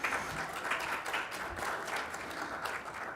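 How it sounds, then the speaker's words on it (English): Applause from a conference audience, a dense, steady wash of many hands clapping that holds for about three seconds without pause. "oh, people are clapping, good."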